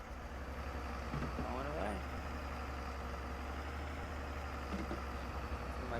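A tractor engine idles and runs steadily in Farming Simulator 22 on the road near Abbey, Saskatchewan, a low continuous drone under a voice speaking briefly.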